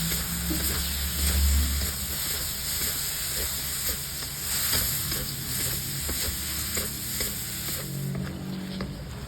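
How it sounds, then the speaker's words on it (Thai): Mushrooms in oyster sauce are stir-fried in a pan with a loud, continuous sizzle and hiss. A spatula scrapes and stirs through it steadily, and the frying swells in places. No voices are heard. "เทลงไปได้เลย แล้วก็ผัดให้เข้ากันค่ะ"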